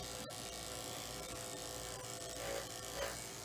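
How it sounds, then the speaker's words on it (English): Electric clippers fitted with a new blade shave the ear of an English Springer Spaniel, giving a steady close-up buzz that stays level throughout with slight swells near the end. "Okay, so I'm gonna turn my clippers on here with my new blade."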